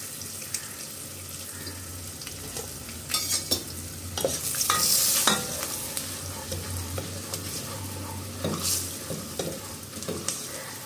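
Green chillies sautéing in oil with chilli powder and turmeric, a continuous close sizzle broken by scraping stirs and clinks of a spoon against the pan, with a louder hiss swelling midway.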